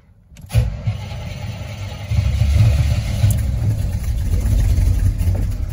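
A car with a flooded Quadrajet carburetor cranks and catches, then settles into a rough, uneven running note. The engine is close and moderately loud, with no talk over it.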